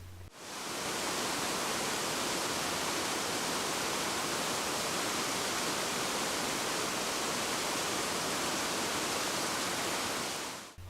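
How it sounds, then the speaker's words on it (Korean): Steady roaring rush of a waterfall, a dense even wash of falling water that continues unbroken for about ten seconds without voices. "이름하여 폭포 ASMR 2탄."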